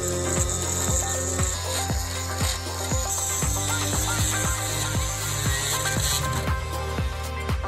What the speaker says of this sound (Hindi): अब चलो एक पतली ड्रिल लेते हैं और सिलेंडरों को ड्रिल करना शुरू करेंगे।